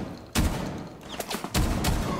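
Shooter game gunfire: two or three sharp, loud shots spaced apart, each ringing out briefly, with faint background effects between them and no talk.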